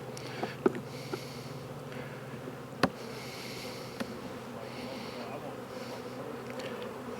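Steady low hum of a small honeybee colony buzzing close by in an open hive during a late-winter check, with occasional knocks and small clicks over the drone.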